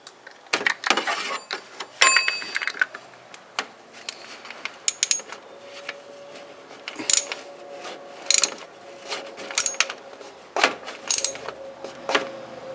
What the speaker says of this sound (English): When you get it tight enough, the wrench will slip.